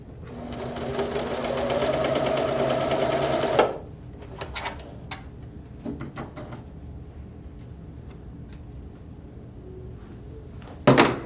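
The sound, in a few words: sewing machine stitching a quilt seam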